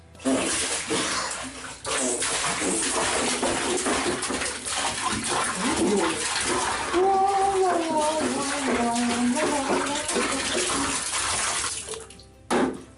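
Milk pours from a gallon jug into a bathtub for a bathtub pudding, a steady continuous liquid rush close by with a voice talking over it partway through.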